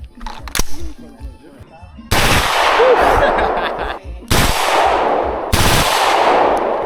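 AR-15 rifle fitted with a forced reset trigger firing three loud, rapid bursts outdoors at small targets, each burst a dense rattle of shots with brief pauses between, preceded by faint voices.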